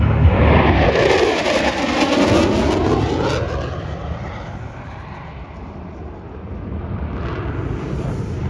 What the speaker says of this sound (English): the Growler is on glide slope and ready to come aboard